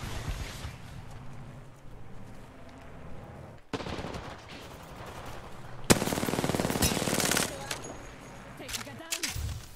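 Rapid automatic gunfire bursts from an Apex Legends match, loud and close, with several volleys and a sharp crack near the end, layered over game sound and brief voices.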